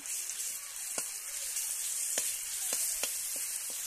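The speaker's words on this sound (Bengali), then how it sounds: "রসুনটা দিয়ে নাড়ছি।" Garlic, onion and green chilli sizzling in frying oil, a constant hissing crackle with several soft knocks of stirring spaced through it, close and moderately loud.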